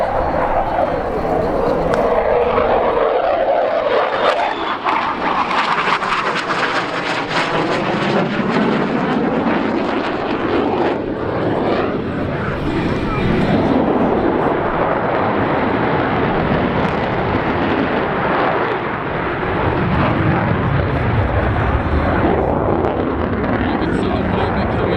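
An F-18 Super Hornet jet roars loudly and continuously through an aerobatic hesitation roll at the Avalon Air Show, its engine noise swelling and shifting as it passes, with a commentator's voice over the sound.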